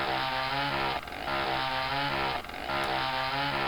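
The Ogre's chainsaw melee weapon in the Quake mod QuadQuake revs in a loud, steady, buzzing drone, with two brief dips where the engine bogs before it roars back at full pitch.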